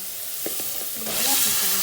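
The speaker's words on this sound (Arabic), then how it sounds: "البصل تاعنا تقلى" Onions frying in a pan, a close sizzle that swells louder partway through, with a few stirring knocks early on and no one speaking.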